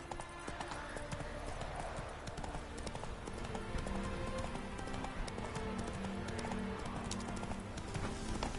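Horse galloping in The Witcher game, a steady clip-clop of hooves that runs throughout at moderate volume, with faint background ambience.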